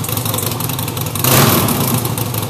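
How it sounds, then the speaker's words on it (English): A 2013 Harley-Davidson FLS with a 2-into-1 exhaust pipe idles in a loud, steady lumpy rumble, then swells briefly with a throttle blip and holds at a higher level. "I ended up going with a 2-into-1 Masonic pipe. Bike sounds real good."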